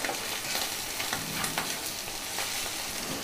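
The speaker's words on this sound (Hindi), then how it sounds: "मसाले में उस फिश का एग ऐसे फटने का आवाज़ आ रहा है" Fish roe roasts in a pan of masala, giving a dense, steady sizzle with faint crackles scattered through it, close and even throughout with no talking.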